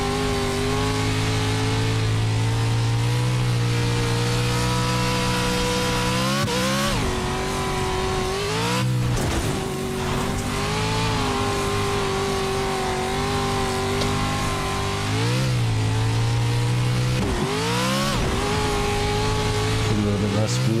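A racing video game car engine revs hard and loud with wheel spin, rising and falling through repeated gear-change sweeps across the whole stretch, with someone talking over it.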